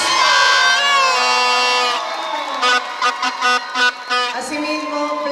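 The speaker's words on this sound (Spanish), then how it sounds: "fuerte el aplauso para ellos." A crowd at a regional bambuco music contest cheers and whoops for second-place prize winners, loud shouting voices with bursts of cheering rising and falling, no distinct clapping.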